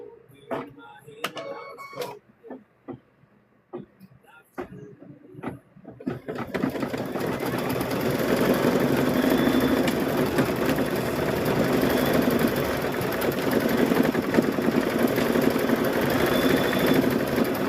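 Embroidery machine stitching a design onto rope, first a few sharp clicks and taps, then a steady loud mechanical hum and rapid whirring that runs on continuously and close up.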